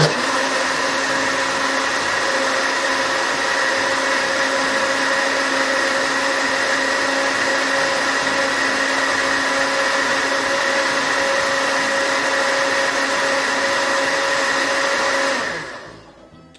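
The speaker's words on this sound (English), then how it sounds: "always be sure to take about 2 processes to blend. So do the first one really slowly just to break up the chunks" A blender runs in one loud, unbroken whir for about fifteen seconds, pureeing food for a matoke and meat stew, then spins down and stops.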